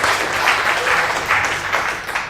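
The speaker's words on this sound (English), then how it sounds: "Everybody's money. Round of applause." Conference audience giving a round of applause, a full, steady wash of clapping with slight surges, loud and sustained across a couple of seconds.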